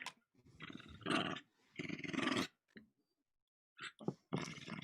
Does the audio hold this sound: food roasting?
no